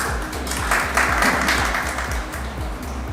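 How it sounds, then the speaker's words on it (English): Steady applause from an audience at a school spelling bee, a dense, even wash of clapping that holds for a few seconds at moderate loudness, with no talking over it. "Big round of applause for her"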